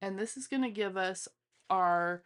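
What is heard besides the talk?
No distinct noise like a dog, phone or traffic.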